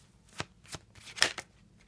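Playing cards being shuffled during a tarot-style reading until one drops, heard as four or five short, crisp riffling bursts spaced by brief pauses, close up and without speech.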